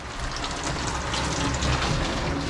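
Water leaking into a motorhome under construction, heard as a steady, dense wash of running and splashing water that fills the whole short stretch at close range, with no talk over it.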